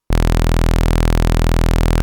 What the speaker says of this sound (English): That is the sound of a Moog sawtooth wave.